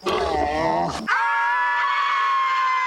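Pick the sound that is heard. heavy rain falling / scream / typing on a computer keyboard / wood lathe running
scream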